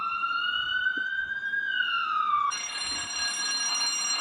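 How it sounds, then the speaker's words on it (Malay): An ambulance siren wails loudly and steadily, sweeping in a slow tone that dips and then switches abruptly to a harsher, buzzier pattern partway through, with no voices over it. "Sekarang kita pelajari bunyi yang berfaedah seperti isyarat kecemasan dari bunyi siren ambulans ini."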